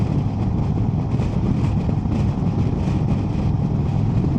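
Indian Sport Chief RT motorcycle on the move, a continuous low engine rumble blended with heavy wind rush, steady and loud throughout without any talk.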